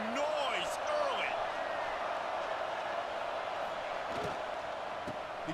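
Steady roar of a stadium crowd in the EA Sports College Football 26 video game, a dense continuous wash with faint cheers rising, loud and unbroken throughout.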